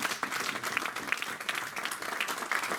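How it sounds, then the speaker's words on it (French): A church congregation applauds, a fairly quiet, fluttering patter of many hands with scattered sharper claps, steady throughout and slightly distant. "Donnons une acclamation au Seigneur."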